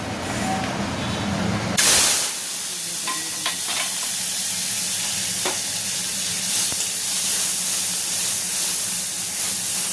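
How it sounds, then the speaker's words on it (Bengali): Bay leaves crackle into hot oil in a pan, a sudden loud burst of sizzling that settles into a steady, bright hiss lasting several seconds. "এখানে তেল বসিয়ে দিয়েছি, তেজপাতা ফোড়ন দিয়ে দিলাম"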